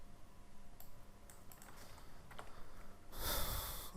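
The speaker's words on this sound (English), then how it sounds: "I'm just typing ls" Typing on a computer keyboard, a quiet run of scattered key clicks and taps in a still room, followed by a brief burst of louder noise near the end.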